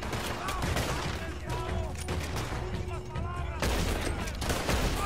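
A Red Dead Redemption 2 shootout: rapid, repeated gunshots crack in bursts amid game ambience, with a voice talking over the firing.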